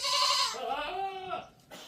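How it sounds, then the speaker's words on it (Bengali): Several goats on a goat farm in Saudi Arabia bleat in overlapping, wavering calls, close by and fairly loud, with a brief pause near the end before another starts. "অনেক ছাগল এখানে রয়েছে"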